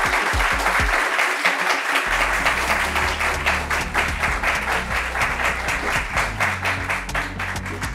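An audience at a French-language talk show breaks into sustained applause to welcome a guest, a dense, even wash of many hands that continues steadily throughout, with faint voices beneath.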